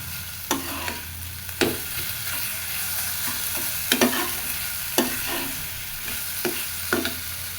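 Leafy greens (shak) stir-fried in a pan, a steady sizzle with repeated scraping strokes of a spatula at irregular intervals, close and without any talking.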